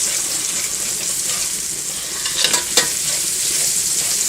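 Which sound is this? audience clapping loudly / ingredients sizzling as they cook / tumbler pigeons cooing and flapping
ingredients sizzling as they cook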